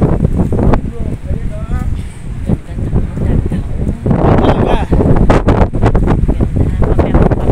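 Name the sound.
strong wind on Boracay beach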